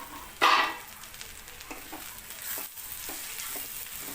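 Green cluster beans (gavar) with spices cook in a pan, a sharp sizzle burst at the start followed by soft steady sizzling and light scraping stirs, close up.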